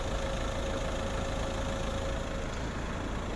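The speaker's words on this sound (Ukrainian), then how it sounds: "заведений двигун рівно тихо працює" A steady, even 2.0 HDi diesel engine hum from a 2014 Peugeot 308 CC automatic idling without revving, a constant low drone that holds level throughout with no voices.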